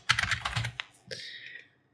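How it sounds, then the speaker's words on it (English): Quick bursts of keystrokes on a computer keyboard, a flurry of clicky taps followed by a brief pause and a final few keys, close and alone. "let's grab the type tool and let's type in some text"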